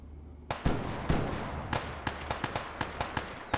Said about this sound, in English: Shot a grenade though.